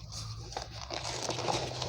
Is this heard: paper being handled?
yes